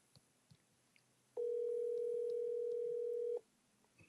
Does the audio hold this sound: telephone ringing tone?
yes